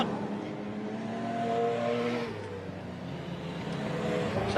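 Speedway solo motorcycles race around the Hobart Speedway track in a state title event, their engines a sustained, loud, droning whine that swells mid-pass and settles again, with no talk over it.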